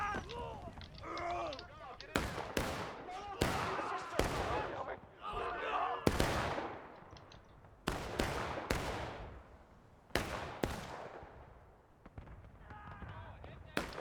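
Gunshots in the Civil War-era multiplayer game War of Rights, a series of loud sharp musket cracks fired at irregular intervals amid battle noise, with people talking over them.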